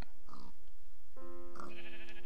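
A sheep in the video game Minecraft bleats in a few short, close, nasal calls, clear and loud with a brief gap between them and no talking over them.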